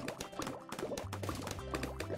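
Soft liquid bubbling sound effect from the tower defense video game Bloons TD 6 plays quietly, with a steady run of small blub-like pops and a low tone beneath.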